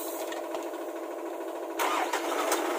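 A 4HF1 diesel engine, freshly rebuilt and being broken in, cranks and fires up, its steady mechanical drone jumping louder as it catches partway through, close and alone.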